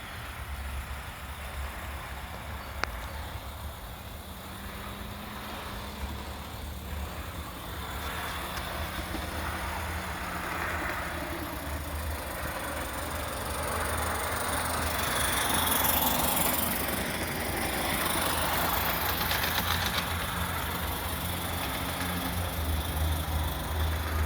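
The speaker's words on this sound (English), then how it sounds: "We just got the throttle just cracked a little bit. So it runs really good." An Accucraft live steam 2-6-2 model locomotive runs with its throttle barely cracked open, giving a steady, close hiss and rumble that swells slightly midway and carries on without any talking.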